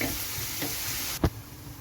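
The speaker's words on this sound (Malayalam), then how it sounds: "നമ്മുടെ സവോളയൊക്കെ നന്നായിട്ടൊന്ന് വഴന്ന് വരുന്നിടം വരെ നമുക്ക് വെയിറ്റ് ചെയ്യാം" Onions sauté in a pan for mutton dum biryani, giving a steady close sizzle and crackle, with one sharp clack of a utensil against the pan partway through.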